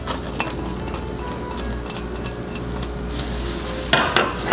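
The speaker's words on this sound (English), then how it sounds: "I'm going to go ahead and throw my shallots in here" Shallots cooking in a pan with a flour roux make a low, even sizzle and soft stirring scrapes, with a louder clatter of utensils near the end; nearby, with no voices.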